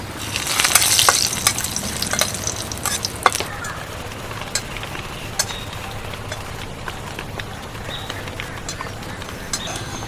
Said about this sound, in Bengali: বেশ কয়েকটা শুকনো লঙ্কা নিয়েছি এগুলোকে ভেজে নেবো